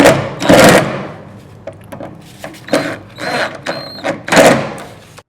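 Bolts about 1.5 inches long being fastened through a bottom bracket while assembling a Smile Queen Hiddenbed, heard as close, loud clanks, ratcheting clicks and scraping metal in irregular bursts with short pauses between them.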